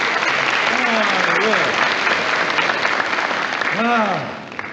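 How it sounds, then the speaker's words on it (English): Studio audience at a live radio song broadcast with a choral society breaks into a loud, dense round of applause that holds steady for several seconds, with voices speaking and calling out over it before it tapers off at the end. "More applause."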